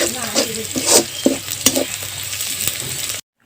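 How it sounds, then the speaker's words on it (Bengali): Onion, chili and garlic stirred in half a tablespoon of hot oil in a pan for a village-style khesari shak dish, a steady close sizzle broken by repeated scraping stirs, ending abruptly. "পেঁয়াজ, মরিচ, রসুনগুলো আমি অনবরত নেড়ে একদম বাদামি করে নেব"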